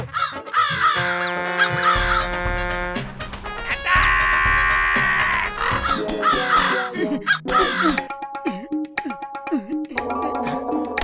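A cartoon crow caws loudly and repeatedly in a 3D animated children's show, several harsh calls in quick bursts close up with no talking.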